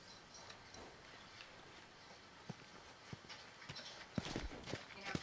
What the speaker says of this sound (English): You guys have horses.